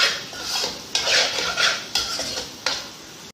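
A spoon scrapes and taps against a pan while stirring a frying masala egg mixture, with several sharp clinks over a soft sizzle and no talking.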